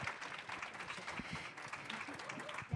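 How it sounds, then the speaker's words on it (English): An audience at a panel event on investing in girls, young women and gender-expansive youth claps for the panelists, giving a dense, steady round of applause heard from some distance at a modest level. "a round of applause for our panelists"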